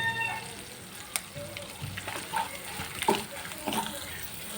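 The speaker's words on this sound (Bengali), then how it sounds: "তো এগুলি দিয়ে খুবই সুন্দর করে এখন হালকা একটু ভেজে নেব" Ingredients lightly frying in a pan for a village-style fish curry, giving a faint crackling sizzle with scattered clinks and stirring noises, heard close with a steady low background.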